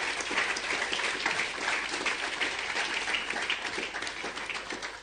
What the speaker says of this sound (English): Students, let us give your parents a round of applause.